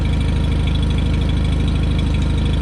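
A John Deere 318 lawn tractor engine idling after a start, with a steady, loud, rhythmic low chug pulsing evenly throughout, close by.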